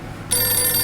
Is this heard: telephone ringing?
yes